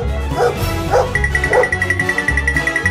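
A cartoon dog barks three times in evenly spaced, moderately loud yaps over steady background music in a children's animal-painting cartoon.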